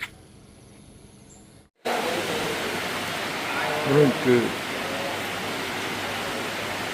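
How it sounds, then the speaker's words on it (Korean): Heavy rain pouring at the Mekong golf course in Laos, a dense, steady hiss that suddenly fills the scene after a quieter start, with someone briefly speaking over it. "비가 엄청나게 옵니다"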